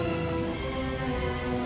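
Heavy rain and storm wind from the game Nobunaga's Ambition: Taishi, a dense, steady wash of pouring rain at constant loudness with no break, heard alone.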